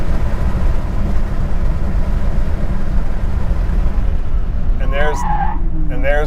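A 1989 Porsche 930 Turbo accelerates hard with a loud, continuous engine roar and road rumble from inside the car, and a person's voice cuts in briefly near the end.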